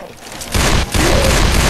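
Gunfire in Left 4 Dead 2 during a Hard Rain campaign fight: a burst of rapid shots kicks in loudly after a quieter start, with a short break and then more sustained firing amid game noise.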